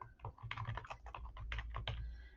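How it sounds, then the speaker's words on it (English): Fingers type a name on a computer keyboard in a quick, close run of soft, irregular key clicks lasting about two seconds. "So I'm going to simply type in my name here."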